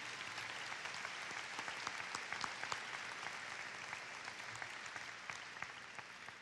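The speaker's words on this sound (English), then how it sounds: "would you please join me in a round of applause for all of the adults who have supported your work" Graduation ceremony crowd giving a sustained round of applause, dense steady clapping from many hands filling the hall for the full stretch with no voices over it.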